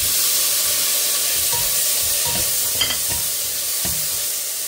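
Tomatoes sizzle in hot oil with a steady frying hiss, while a spoon stirs and scrapes against the pan a few times.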